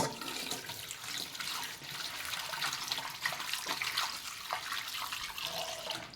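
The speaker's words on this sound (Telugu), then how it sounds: "ఈ నీళ్ళు మనము వంపేసుకోవాలి." Dirty, cloudy water from washing fish being poured out, a steady rushing splash of liquid lasting throughout, fairly loud and close with no talking.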